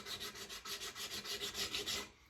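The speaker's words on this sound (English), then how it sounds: "for now, in the shop here, I just like using hand sandpaper." Wood edges sanded by hand with sandpaper in a workshop, a quick rhythmic series of rasping back-and-forth strokes, close and fairly quiet, with no talk.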